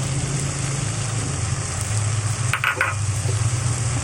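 Onions and chili frying in a pan for sisig, giving a steady, close hiss of sizzling oil with a brief clatter of stirring partway through.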